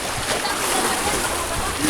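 Water sloshes and splashes steadily into a small boat on the way to a cave, a close, continuous rushing wash with no clear break.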